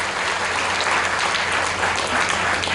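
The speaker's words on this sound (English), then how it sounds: "give them a round of applause" Sustained applause from a large audience at a commemorative ceremony with a chief minister present, steady and dense clapping filling the space throughout.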